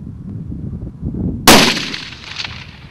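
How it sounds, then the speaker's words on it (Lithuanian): A single loud rifle shot on a hunt for a trophy red deer stag at about 200 metres, a sharp crack followed by a long fading echo over quiet outdoor background. "Po kurio laiko pasigirdo šūvis."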